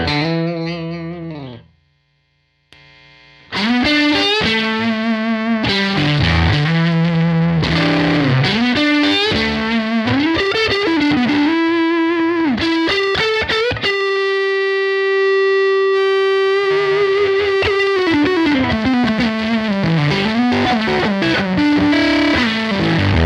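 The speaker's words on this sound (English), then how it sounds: "I like to use this to really understand the psychedelia available in a fuzz" An electric guitar played through a fuzz pedal rings out loud, saturated notes and bends with swelling, wavering sustain, a brief silence near the start and one long held note in the middle.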